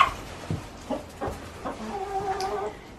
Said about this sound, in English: These are all of our chickens.